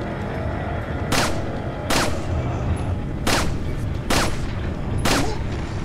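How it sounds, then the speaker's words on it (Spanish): Five sharp gunshots ring out in Resident Evil 4 (2022 remake on PS5) in the mines chapter, spaced roughly a second apart over a steady low in-game background. "estoy fallando más tiros que la hostia"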